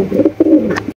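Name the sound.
pigeons cooing, a pair of big Androp pigeons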